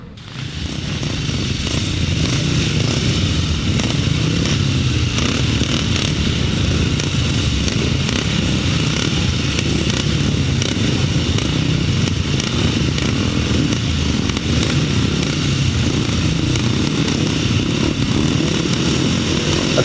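Grasstrack racing motorcycles roar away from the gate at the start of race 21 at a 2007 Ledbury meeting, a loud, steady, continuous engine drone that holds throughout without speech.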